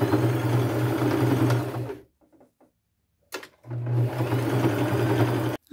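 A sewing machine stitches a fabric flap onto a backpack made from upcycled materials, running in a steady close whirring burst, pausing for about two seconds, then starting again with another continuous run.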